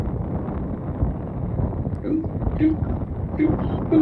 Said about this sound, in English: And it was incredibly windy.